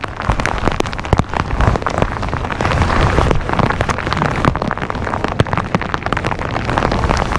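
Steady, dense rain patters loudly onto the grassy waters of Lake Guntersville, a constant close hiss of drops striking the surface with no voices.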